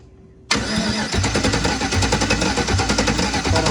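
A 1988 Trans Am with a swapped 5.3-liter LM7 LS engine fires up after a brief crank, then runs loud and close with a rough, choppy idle.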